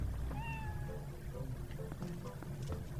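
A cat in the Twilight Princess video game meows twice in quick rising-falling calls, then stays quiet over a low steady ambient bed.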